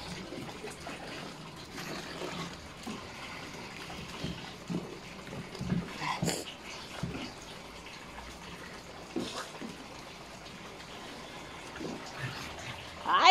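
Water is poured over a baby at bath time, with soft splashes and trickles coming in short irregular bursts. Someone talks gently over the water throughout.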